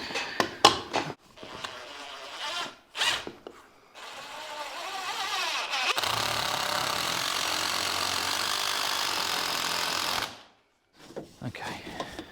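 A power drill whirs continuously for about four seconds during home renovation work on a damp problem, nearby and fairly loud, with short bursts of handling noise and brief talk before and after.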